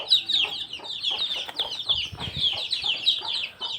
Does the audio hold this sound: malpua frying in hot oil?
no